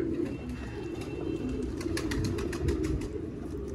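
Ferozpuri pigeons of prized quality coo steadily in a loft, a continuous low murmur of calls with occasional sharp clicks and rustles on top.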